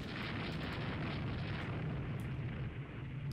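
A torpedo strikes a ship in the naval strategy game Rule the Waves 2, a loud sustained explosive rumble with deep booming low end that holds steady for several seconds.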